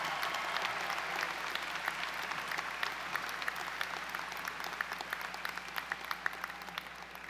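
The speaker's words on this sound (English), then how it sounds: "let's have one more round of applause for all of our graduates." Applause from a college of engineering commencement audience saluting graduates in 2017, a dense, steady wash of clapping from a large crowd that continues throughout.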